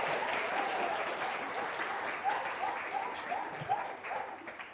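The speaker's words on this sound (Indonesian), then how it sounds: "tepuk tangan." Schoolchildren at SDN 24 applaud during a school visit by traffic police, a steady moderate clapping with a few sharper claps and vocal sounds breaking through.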